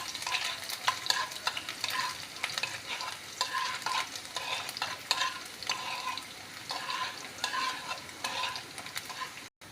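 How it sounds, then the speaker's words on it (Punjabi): Chopped garlic frying in a tadka for dal: a steady close sizzle, broken by repeated rhythmic scrapes and taps of a spoon stirring in the pan. "ਇੱਕ ਚਮਚਾ ਕੱਟਿਆ ਹੋਇਆ ਲਸਣ ਪਾ ਰਹੇ ਹਾਂ ਕਦੀ ਲਸਣ ਨੂੰ ਤੇ ਚੰਗੀ ਤਰ੍ਹਾਂ ਭੁੰਨ ਲਾਂਗੇ"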